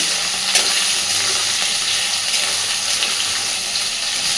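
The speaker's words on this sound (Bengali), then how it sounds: "ন্যাচারালি আমি এইভাবে আলু ভেজেই করি" Potatoes frying in a pan for ghugni, a steady loud close sizzle with occasional stirring clatter and no voices.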